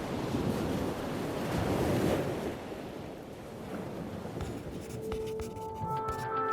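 Pacific Ocean waves washing ashore, a broad rushing surf that swells and recedes under wind buffeting, fairly faint, followed by quieter water with scattered clicks and a brief tonal beep near the end.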